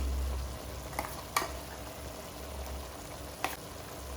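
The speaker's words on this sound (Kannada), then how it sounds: "ಇದು ಮಟನ್ ಕೂಡ ಚೆನ್ನಾಗಿ ಫ್ರೈ ಆಗ್ತಾ ಇದೆ ಈಗ ಇದಕ್ಕೆ ಶುಂಠಿ ಬೆಳ್ಳಿ ಪೇಸ್ಟ್ ಮತ್ತು ರುಬ್ಬಿರೋಂಥ ಈರುಳ್ಳಿ ಮೆಣಸಿನ ಪೇಸ್ಟ್ ಹಾಕ್ತಾ ಇದ್ದೀನಿ" Mutton frying with ginger-garlic paste and ground onion-pepper paste, a low steady sizzle at moderate volume with a few sharp spoon taps against the pot, no talking.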